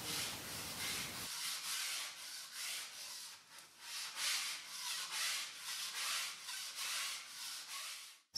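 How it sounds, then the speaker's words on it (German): Sandpaper rubbed by hand to fine-finish and smooth the edge of a handpan, a steady run of rhythmic back-and-forth scratchy strokes, close and alone after a brief low noise at the start. "werde ich jetzt noch von Hand mit Schleifpapier den Feinschliff vornehmen und die Kante hier sehr glatt machen"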